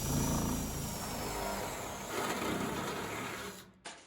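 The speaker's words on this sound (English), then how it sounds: "I'm just gonna take a 1/2 inch drill bit, pop a hole in here." A drill drives a 1/2 inch bit through sheet metal for a homemade wood burning stove, a steady close whirring grind that runs continuously and then cuts off abruptly near the end.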